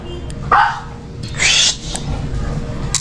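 A pet dog barks outdoors during a repair job, giving a couple of sharp barks spaced apart, close and fairly loud over a steady background.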